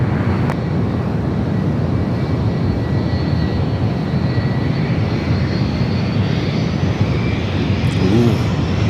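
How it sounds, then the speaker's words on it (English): Air Premia airliner's jet engines rumble steadily while taxiing at San Francisco airport, a continuous broadband roar with a faint high whine, heard alone without talk. "Air Premia starting its taxi once again"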